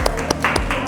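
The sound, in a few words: class applauding a classmate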